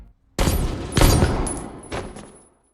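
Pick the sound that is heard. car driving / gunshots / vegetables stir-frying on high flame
gunshots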